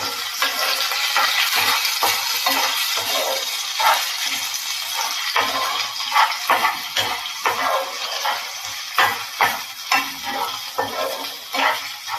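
Chopped tomatoes sauté and sizzle in a pan while being stirred for a potato roast, a continuous close frying hiss with soft scraping strokes and no voices.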